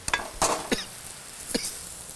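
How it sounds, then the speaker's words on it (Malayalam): Onions sauté with crushed red chili, cumin and garlic in a pan, a few sharp scraping stirs and clinks of a spoon on metal over a faint sizzle, close and brief, with no talk. "ചുവന്ന മുളകും ജീരകവും വെളുത്തുള്ളിയും കൂടെ ചേർത്ത് ചതച്ചത് അതിൻ്റെ കൂടെ ഇട്ടു ഉള്ളിയും കൂടെ അതിലിടുക ഉള്ളി പഴറ്റാനായിട്ട്"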